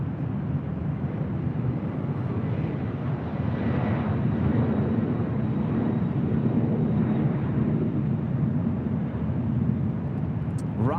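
An Embraer E175 airliner of Alaska Horizon at LAX produces a steady, moderately distant engine rumble that holds without pause for the whole stretch, with no clear voices.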